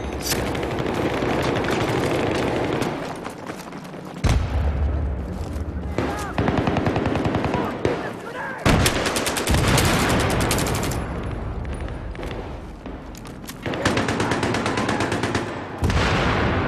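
Dense, loud bursts of automatic and single-shot gunfire in a video game shootout, handgun among the weapons, with rapid volleys and brief pauses continuing throughout and occasional heavier booms.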